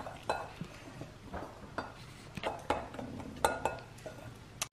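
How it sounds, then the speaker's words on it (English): A spoon stirs a pumpkin baking mixture in a bowl, giving a run of soft scraping clinks and taps against the bowl's sides in an irregular rhythm, close and fairly quiet, with no talking. "Give it a little stirry stir."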